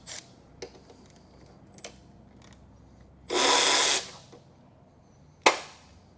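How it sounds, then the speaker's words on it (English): Bolts being removed from a disc brake assembly on a rear tire/motor setup, heard as a loud burst of whirring power-tool noise lasting under a second, scattered clicks and light metallic taps, and a sharp clack near the end; no talking. "we're going to remove these 2 screws here, these 2 bolts, so that we can take this brake assembly off of the disc brake"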